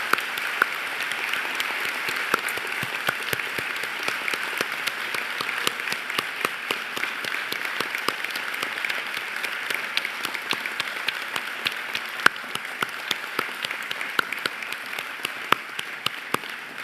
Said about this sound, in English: I wonder if our audience and my colleagues up on stage would join me in applauding the